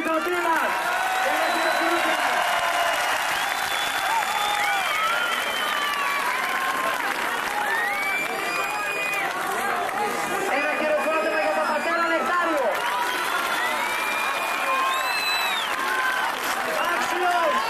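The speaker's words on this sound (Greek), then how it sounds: "ένα χειροκρότημα για την Επιτροπή μας" Sustained applause from a crowd at an outdoor protest rally in Athens, dense and steady throughout, with some cheering and chatter mixed in.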